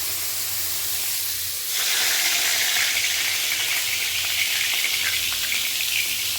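Chillies dropped into hot oil set off a sudden loud sizzle that jumps up and then holds as a steady, close frying hiss with faint crackles, without any voices.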